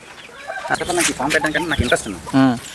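A native country rooster clucks and calls on a poultry farm, several short bursts close by, mixed with someone speaking over it.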